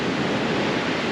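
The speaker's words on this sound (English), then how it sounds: "I'm walking as close as I can to the waves." Ocean surf washes onto a beach in La Coruna, heard close and loud as a steady broadband roar with some wind rush over it, no voices present.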